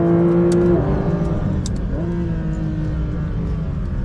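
Porsche 911 992 GT3 RS engine pulling hard out of a corner, a loud, close, steady drone with rising harmonic pitch as revs climb, briefly dipping at a shift before climbing again.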